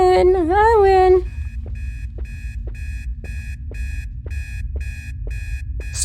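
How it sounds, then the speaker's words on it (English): Electronic beeping of an alarm clock in a ghost-hunting video game repeats in a steady, evenly spaced pattern over a low hum, after a brief wavering, siren-like tone at the start. "Stupid alarm clocks!"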